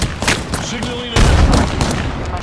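Video game gunfire, a burst of shots with a heavy boom midway, under loud in-game voices and combat chatter.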